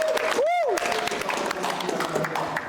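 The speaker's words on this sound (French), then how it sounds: "Faut applaudir." Audience applause under a broad wash of crowd noise, with a brief whoop or whistle rising early on, fairly loud and continuous.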